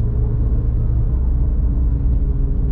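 Loud, steady engine rumble from inside a moving car shifting into seventh gear, a continuous low drone with no clear rise or break.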